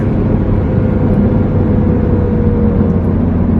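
A car engine held at high revs during break-in drones loudly and steadily, a dense continuous roar with no pauses.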